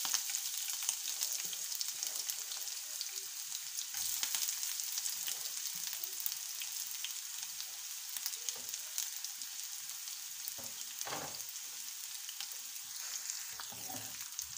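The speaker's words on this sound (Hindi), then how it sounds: "अब ऑयल हमारा गर्म हो चुका है, अब इसमें ऐड करेंगे प्याज।" Finely chopped onions frying in hot oil for Kashmiri-style chicken haleem, a steady close hiss and crackle that continues evenly throughout, with no talking.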